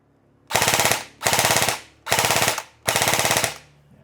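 An airsoft rifle with a metal handguard and receiver and an adjustable buttstock fires four loud, rapid full-auto bursts up close, each lasting about half a second, separated by short pauses.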